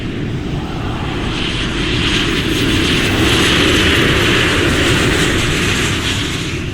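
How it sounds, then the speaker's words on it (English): Airliner jet engines roar during the takeoff run, heard from inside the cabin as a loud, continuous, even rumble with a steady hiss that builds slightly and holds throughout. "We've been cleared for takeoff."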